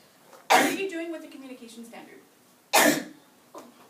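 A sharp sneeze bursts out, then a person speaks, and a second sneeze-like burst follows, with a softer one after.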